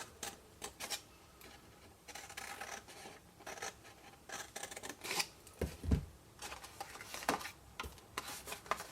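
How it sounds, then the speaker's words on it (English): Scissors snipping through scored card while making a candle box, a quiet, irregular series of crisp cuts and light scraping with no talking. "And cut straight down the square bit in the middle."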